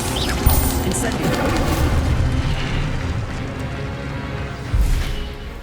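The Incendio fire spell is cast in the video game Hogwarts Legacy, a rushing burst with booming impacts over a dense, noisy game background, with a second thump near the end.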